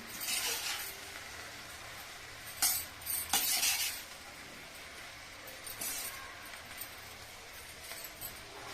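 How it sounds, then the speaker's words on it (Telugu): Spinach being stirred into a leafy vegetable curry in a pot makes quiet scraping and soft stirring under a faint sizzle, with bursts of utensil clinks against the pot. "పాలకూర వేసి ఈ విధంగా కలుపుకోవాలి."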